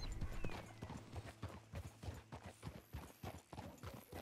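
Horse hooves clip-clop at a steady walking pace on a road in Red Dead Redemption 2, close and rhythmic but quiet overall.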